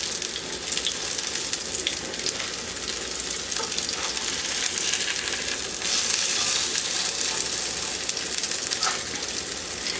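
Tater cakes sizzle steadily in a hot pan, a dense, even frying hiss that holds at close range throughout with no voices.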